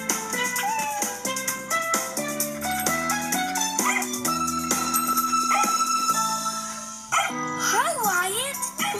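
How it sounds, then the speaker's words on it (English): A puppy in an animated children's cartoon barks over constant bright cartoon music, the short yips close and mixed among the melody. "Grandma gave me a new puppy"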